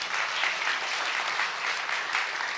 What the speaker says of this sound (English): I want to ask for a round of applause for the mentors this time